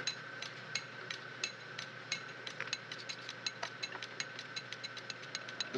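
A 1921 Dalton B4 metal lathe drilling a stainless steel bolt, giving a steady faint machine hum with a constant whine and rapid, regular ticking clicks throughout, close and without speech.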